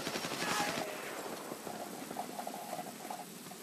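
A minigun firing in the Homefront online shooter on PS3: a dense, rapid mechanical burst of fire at the start that fades into a lighter, crackling rattle.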